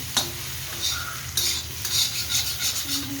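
Brinjal bharit stir-fried in a pan: repeated clinks and scrapes of a utensil against the metal over a gentle sizzle, close and rhythmic, with no speech.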